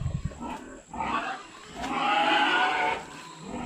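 Pigs in a village squeal and grunt in loud, harsh bursts: a short outcry, a pause, then a longer shrill squeal lasting about a second, close by with no talk.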